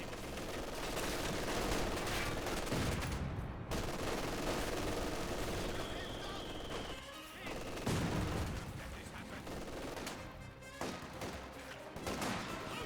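A game-battle soundscape from Company of Heroes 2 with an MG42 machine gun, where bursts of rapid gunfire and distant shots crackle over a busy mix, with a voice talking intermittently over the combat.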